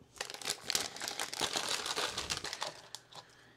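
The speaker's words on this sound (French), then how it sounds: "Il y a un tout petit plastique à enlever" Small plastic crinkling as a tiny battery tab is pulled from an LED strip remote, a close, busy run of crackles and rustles that fades out near the end.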